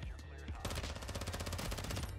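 Full-auto bursts from a TAC-V battle rifle in Call of Duty DMZ, a rapid stream of sharp loud shots that starts about half a second in and runs unbroken to the end, with an underlying game din.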